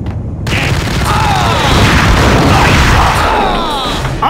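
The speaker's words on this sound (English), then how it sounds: "Can I use a shotgun to kill that bitch?" Gunfire in the Max Payne video game on PS4: dense, continuous booming blasts and crashes fill the whole stretch, loud and chaotic, with no single clean report standing apart.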